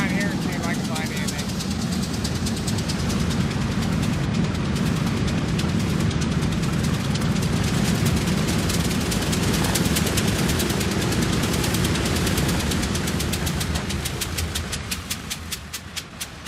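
Multiple radial engines of a giant B-29 bomber run loud and continuous on a short runway, a dense roaring drone with rapid popping throughout that eases slightly near the end.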